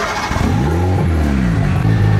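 L15 turbo engine on a longtail boat starts and revs, the pitch sweeping up and down through a few loud, close throttle bursts.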